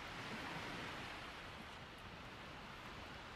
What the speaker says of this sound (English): put your attention onto the sound of the waves